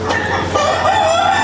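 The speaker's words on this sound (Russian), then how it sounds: "Вот петушок какой, я думала, тут живые" A rooster crows loudly and close by, one sustained, strained cock-a-doodle-doo in a henhouse, with no talk over it.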